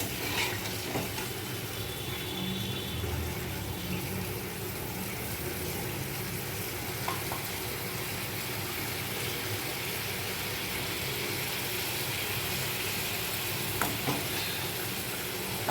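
Sour Bengali sauce with cumin and sugar, meant for fish-roe fritters, sweet potato and lemon peel, simmering in a pan with a steady close sizzle and bubbling for the whole stretch, with no talk.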